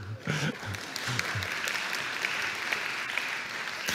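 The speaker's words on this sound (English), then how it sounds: "And then Mark's wife, Katie, should probably get a round of applause" An audience claps steadily in a dense wash of applause, with a few brief voices at the beginning.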